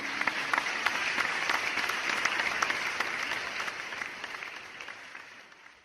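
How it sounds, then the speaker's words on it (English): A round of applause at a school graduation, moving-up and recognition ceremony honours a distinguished guest, with dense steady clapping that stays loud and fades gradually toward the end, without voices. "let's give our most distinguished guest another virtual round of applause"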